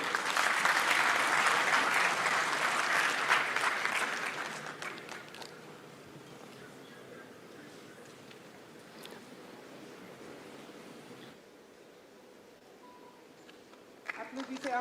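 Applause at a Senegalese national diaspora day ceremony, loud and dense for the first few seconds, then fading to a low murmur with a brief rise at the end.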